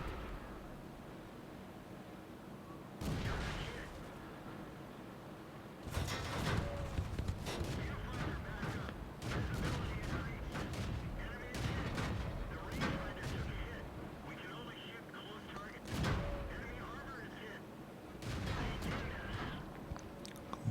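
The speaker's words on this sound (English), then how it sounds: "He's going to have to nail that M2 medium. He's firing a 75mm howitzer at him." A 75mm howitzer in World of Tanks fires at an M2 medium tank, with several sharp, heavy cannon blasts spaced seconds apart over a low rumbling battlefield background, plus smaller impacts in between.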